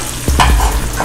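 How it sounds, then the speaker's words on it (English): Vegetables dropped into a hot pan to sauté, with a sudden sizzle and stirring clatter starting a moment in and continuing steadily up close, no voices. "place it right in the pan. We're gonna saute."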